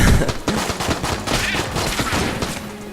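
Rapid, dense bursts of rusty sidearm fire crackle in Enter the Gungeon, an infinite-ammo starter pistol shooting shot after shot in a loud, unbroken barrage with no voices.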